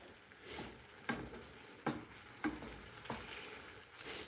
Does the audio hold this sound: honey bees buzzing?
no